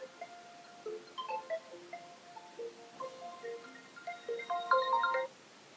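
A mobile phone rings with an incoming call during an online class, its melodic ringtone repeating bright, cheerful notes for several seconds before stopping, with no talking over it.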